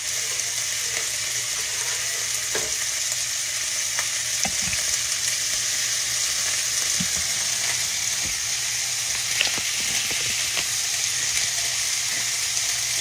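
Beef strips for stroganoff frying quickly in a pan on high heat, a steady loud sizzle throughout with faint scraping and stirring touches and no talk.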